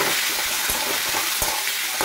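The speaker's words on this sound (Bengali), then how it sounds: "এবার টমেটোটাকে একটু বেশ ভালো করে ভাজা ভাজা করে নেবো" Tomato fries in ghee with onions in a pan, a loud, continuous close sizzle broken by a few soft stirring strokes.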